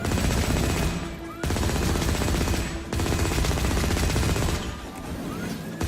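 Gunfire in the video game Firefall: loud, dense bursts of rapid automatic shots in long runs, broken by two brief pauses, close and dominant with no talking.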